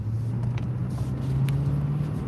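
A 2009 Toyota Tundra pickup truck cruising along, heard from inside the cab as a steady low engine and road drone that stays even and close throughout, with no talking.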